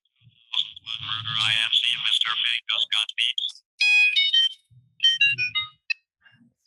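A mobile phone plays a melodic, chirpy ringtone, with bright tonal beeps and warbles repeating in short bursts, while people talk faintly underneath.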